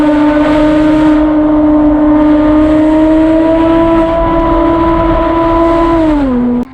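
A Porsche Boxster S with an aftermarket valved exhaust and race headers holds a loud, steady droning tone near, rising very slightly, then drops in pitch as the revs fall at the end.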